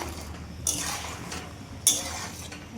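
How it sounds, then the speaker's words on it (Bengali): A spoon clinks twice against a cooking pot while garam masala is stirred into a potol and potato curry gravy, two light metallic taps over a soft background hiss. "মিশিয়ে দিলাম ঝোলের মধ্যে।"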